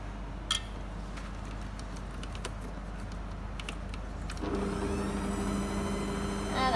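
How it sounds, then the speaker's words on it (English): Electric mixer switching on while mixing whole wheat bread dough, a steady motor whine starting partway through after a few faint clicks and taps, moderately loud with no talking. "I'm gonna turn the mixer on."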